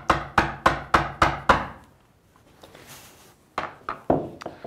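A chisel driven by mallet blows chopping waste from plywood, a quick run of six sharp, evenly spaced knocks, a pause with faint scraping, then a few more strikes.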